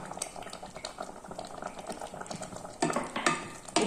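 A pot of soya curry with water and salt bubbles and simmers while a spoon stirs and scrapes through it, with clinks growing louder near the end; no voices.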